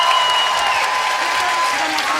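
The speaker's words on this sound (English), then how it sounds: "could you give one last huge round of applause to all of your children and" An audience applauds children and a band after a performance, a dense, sustained round of clapping from a large crowd filling the whole moment.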